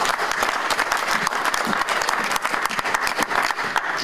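A church congregation at a worship service claps together in loud, dense, continuous applause that stays steady throughout, with no one speaking.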